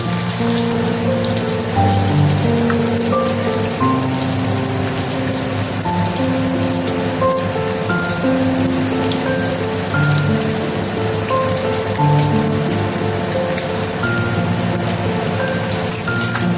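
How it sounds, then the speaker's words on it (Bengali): Fish pieces fry gently in oil, producing a steady, even hiss like light rain that stays constant and fairly loud, with soft music playing underneath. "দেখুন মাছ হালকা করে ভাজা হয়ে গেছে।"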